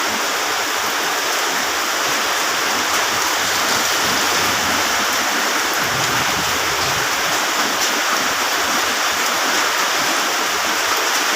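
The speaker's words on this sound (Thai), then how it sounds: "ฝนตกชุ่มฉ่ำเลย" Steady, dense hiss of rain pouring down onto a road, continuous and fairly loud throughout with no voices, blending with the rush of running water.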